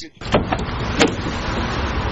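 A locksmith unlocks and opens the door of a standard test car, making a few close mechanical clicks and a louder latch clunk, then a steady low rumble. A voice can be heard faintly underneath.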